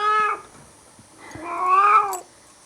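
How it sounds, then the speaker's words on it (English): A cat meows twice indoors, a short cry followed by a longer, rising drawn-out meow, close and clear with no talking. "Stubborn cat."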